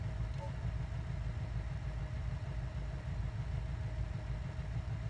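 A car engine idling in the BeamMP driving game, a steady low rumble held at an even, moderate level for the whole stretch, with no revving.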